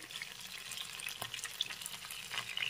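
Chicken kathi kabab pieces fry in a pan while being turned, giving a faint, quiet crackle and scattered small pops close by, with no talking.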